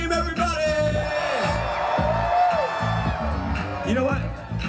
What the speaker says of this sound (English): Scream, everybody.